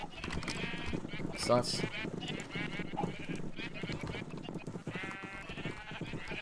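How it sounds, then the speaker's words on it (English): Sheep bleating on a crowded sheep farm in Globecraft, several overlapping bleats and a sharp close call midway, mixed with faint clip-clop, all under continuous talking. "Wow, that is one packed sheep farm."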